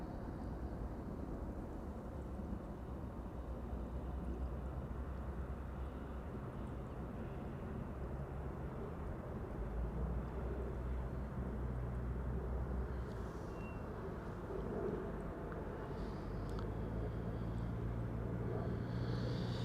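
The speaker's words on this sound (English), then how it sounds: "the ITA Airways Bombardier C-Series 100 just took off from 18 left." An ITA Airways Bombardier C-Series 100 jet takes off from a runway, heard as a steady, distant low rumble of engine roar that holds evenly throughout, quiet and without voices.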